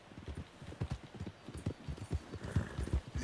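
Horse hooves clip-clop steadily and close in the Red Dead Redemption 2 video game, a brisk, even rhythm of sharp hoof strikes that carries on throughout.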